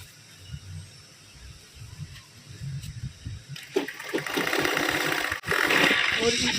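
A sewing machine stitches a salwar, its motor whirring in short bursts at first and then running louder and continuously, with someone speaking over it.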